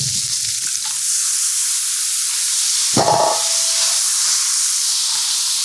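Chopped chicken on a Blackstone griddle gives a loud, constant sizzle and hiss up close, with a brief clatter about midway.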